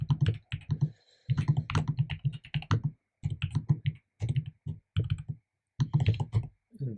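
Close, crisp keystrokes on a computer keyboard while typing Go code, coming in quick bursts separated by short pauses, with no talking.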